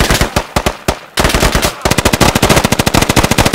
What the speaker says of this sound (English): They got a 50 cal right at us.